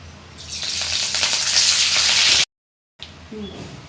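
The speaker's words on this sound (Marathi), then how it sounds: "तेल चांगलं तापलं की आपण कढीपत्ता घालूया" Curry leaves go into hot oil in a kadai and give a loud burst of hissing sizzle that runs about two seconds. A short silence follows, then a fainter sizzle returns.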